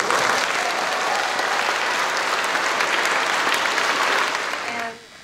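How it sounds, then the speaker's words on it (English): Audience at a school orchestra charity concert applauds loudly, a dense, steady wash of clapping that holds for about five seconds before abruptly dying away. "Please give him a big round of applause."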